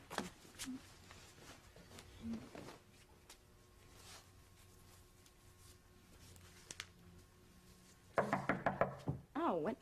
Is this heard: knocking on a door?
yes